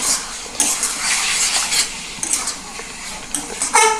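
Bombay duck (lote fish) is stirred with spices in a pan over medium-low heat, giving steady scraping and clinking of a utensil against the metal with a soft sizzle underneath, close and continuous with no talking.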